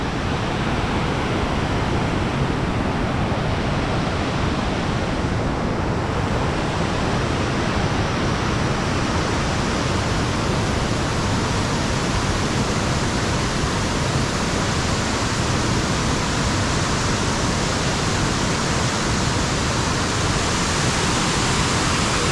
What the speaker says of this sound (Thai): น้ำตกตาดคู่